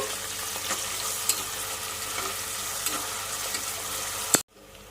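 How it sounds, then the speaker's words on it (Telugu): Onion pieces fry in a pan for a curry, giving a continuous close sizzle with occasional stirring clinks and scrapes, then a sudden cut to near silence at the end. "ఇప్పుడు ఉల్లిపాయ ముక్కలు మనకి బాగా వేగిపోయాయండి"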